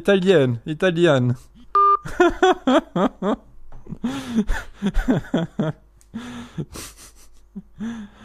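Telephone keypad tones ring out in a brief run of DTMF beeps during a French-language prank phone call, surrounded by lively, excited speech and a few laughs.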